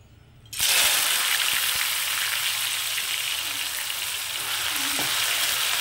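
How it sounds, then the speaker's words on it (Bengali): Shredded potatoes dropped into hot oil for crispy aloo bhaja: after a brief quiet moment, a sudden loud burst of sizzling fills the pan and holds steady and dense to the end, with faint stirring knocks underneath. "তেলটা গরম হয়ে গেছে, আর এখান থেকে আমি কিছুটা আলু এটার মধ্যে দিয়ে দেবো"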